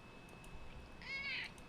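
A house cat lets out one clear, drawn-out meow near the end, close and fairly loud over a quiet room.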